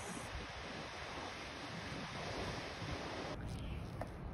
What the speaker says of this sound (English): This beach is just stunning.